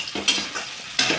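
Onion, garlic and cumin frying in oil in a pan for an eggplant dry curry, a steady close sizzle with brief stirring scrapes, no voices.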